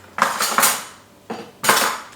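Metal utensils clatter and clink as someone rummages through a kitchen drawer for an offset spatula while making a vegan cheesecake, in three short bursts of jangling with quiet gaps between.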